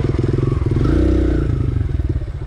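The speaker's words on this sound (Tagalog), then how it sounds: "Kaya ako na lang magmumotor ulit." A motorcycle rides over rough, rocky hill terrain near Sitio Dueg in Tarlac, its engine pulsing loud and close while the bike clatters and scrapes over uneven ground, rising briefly as it revs.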